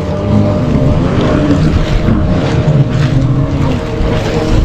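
Motorboat engine droning steadily at close range during a ride on the sea at Malvan in heavy rain, with wind and water noise and no talk.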